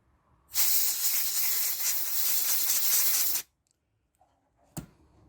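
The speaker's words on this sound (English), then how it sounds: "Just going to give it a bit of a blowout." Compressed air blasting through a motorcycle carburetor float valve during carb assembly cleaning: one loud, steady hiss of about three seconds that cuts off sharply, followed by quiet and a single brief knock.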